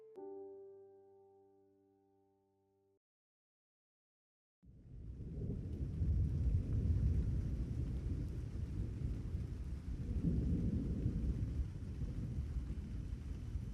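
A thunderstorm with steady heavy rain and low rumbling thunder swells in after a brief musical chime and a moment of silence, continuing as a dense, even downpour with a deeper roll of thunder midway.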